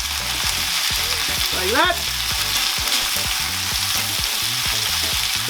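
Chicken fajita pieces sizzle hard on a hot pan as a spatula scrapes and flips them, with rhythmic scraping strokes over a constant loud sizzle, and a person talks over the cooking.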